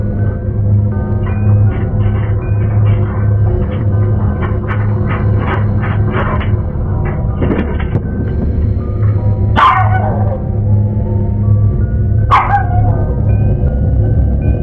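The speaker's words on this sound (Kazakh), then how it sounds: "Үйде қалған иттер." Dogs left alone at home bark repeatedly in bursts, with higher yips mixed in, over a loud steady low hum. No one speaks.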